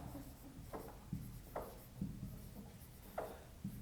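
Marker or chalk strokes on a classroom board during an electrostatics physics lesson, a handful of short scratchy scrapes and taps spaced irregularly, close and moderate in level, with no talking.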